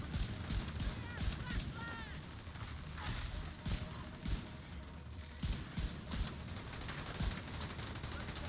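Handgun fire in the video game Division 2 comes as rapid, repeated sharp shots in bursts across the whole stretch, with game effects layered underneath, fairly quiet overall.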